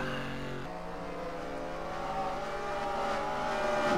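Classic race trucks in a sim racing game at Chicago: several engines drone and whine together, pitch shifting as they accelerate, building steadily louder toward the end, with no voices.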